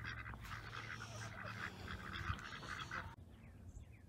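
Farm ducks quack in a busy cluster for about three seconds over low rumbling background noise, then the calls stop abruptly, leaving quieter ambience.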